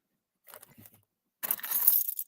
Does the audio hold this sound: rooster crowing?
no